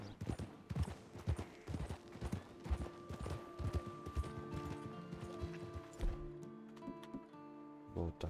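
Steady rhythmic hoofbeats of a horse clip-clopping at a trot in the video game Red Dead Redemption 2, close and clear, with a faint tonal hum underneath.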